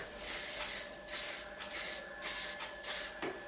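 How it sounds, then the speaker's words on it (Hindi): Hairspray is misted onto a bridal hairstyle in five separate short bursts, each an even, close hiss of about half a second with brief pauses between, and no voices. "उन बालों को आप फिक्स कर सकते हैं इजीली स्प्रे लगा के"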